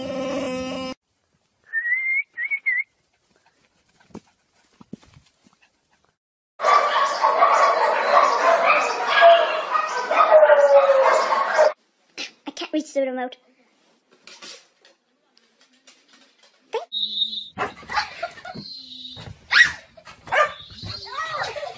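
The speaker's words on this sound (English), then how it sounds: "I think my dog thinks she's Chewbacca." A pet dog lets out long, gravelly, growling moans that sound like Chewbacca, in a few bursts between quieter gaps, while people talk over it in a home.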